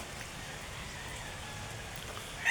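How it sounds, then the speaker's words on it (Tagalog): Morning rain falls steadily as a soft, even wash of broad hiss with no distinct drops, continuous and moderately near throughout, with a slight rise at the very end. "Maulan umaga guys."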